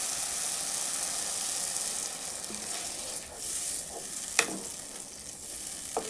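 Water poured into masala frying for a fish curry, giving a loud, continuous close sizzle and hiss with a brief sharp clink partway through.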